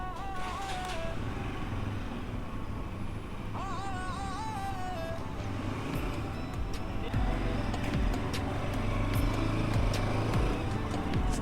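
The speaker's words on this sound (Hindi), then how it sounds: "बाइक तो मक्खन के जैसे चल रही है यार" A motorcycle rides away from a showroom after a paid service, its engine droning steadily and rising as it pulls off along the road, with traffic noise around it.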